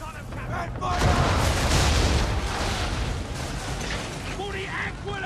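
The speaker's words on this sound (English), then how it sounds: "Use the swivels on him, Captain! And fire!" Swivel gun cannon fire aimed at an enemy ship in Assassin's Creed III, a heavy booming blast followed by a long rumbling roar and crackle, with shouting voices faintly over the din.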